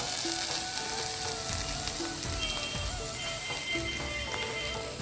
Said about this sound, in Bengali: ভালো করে কষায় নিয়েছি এখন দিব জল